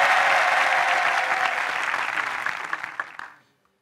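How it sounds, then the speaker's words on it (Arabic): A live stand-up show audience claps loudly to welcome a coach, a dense steady wash of applause that thins into a few scattered claps and stops after about three and a half seconds. "نستقبلوا تحت صفيقة الجمهور الحاضر معنا كوتش"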